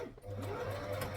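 A sewing machine runs steadily, stitching fabric onto the back of the neck of a homemade Kiss costume; a brief hum at the start gives way to an even, close motor drone with no pauses.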